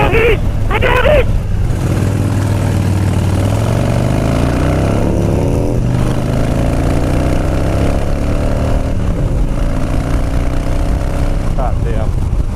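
A 2017 Harley-Davidson Dyna Street Bob motorcycle riding with its muffler removed, a loud continuous rumbling exhaust note rising and falling with throttle and shifts, close up with wind noise throughout.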